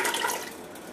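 Beet juice pours into a pot holding a gallon of water, a steady close splashing gush of liquid that fills the short moment without any talk.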